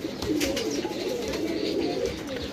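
Low, rolling pigeon coos repeat close by, a soft continuous burbling with a faint rustle of background noise.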